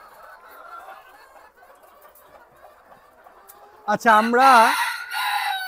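Native free-range chickens at a poultry farm: someone talks over faint clucking, then a loud, close rooster crow breaks in near the end, with the flock still calling after it.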